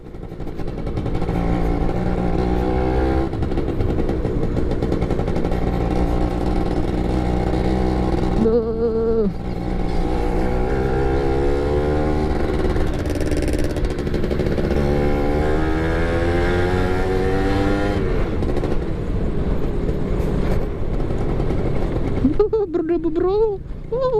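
Yamaha F1ZR two-stroke motorcycle engine revving loudly in Lampung, with sustained rising and falling revs and repeated throttle blips close by for most of the run, an engine tone steady and dominant throughout.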